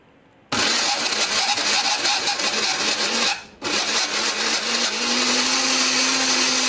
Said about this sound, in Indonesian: Nah ini akan kita haluskan menggunakan blender, beri sedikit air ya supaya lebih gampang untuk menghaluskannya.